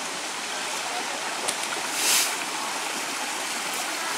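A clear mountain stream on a trail descending from Mount Tammany rushes steadily at close range, a constant broadband flow of water with one brief splash partway through.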